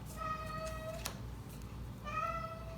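A pet cat meows twice, a clear, moderately close mew followed about a second later by a second one, over a faint room hum.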